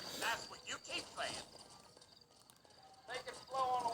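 Horse hooves clip-clop steadily in Red Dead Redemption played on a Nintendo Switch 2, a quick trotting rhythm of close, clear hoofbeats heard under someone talking.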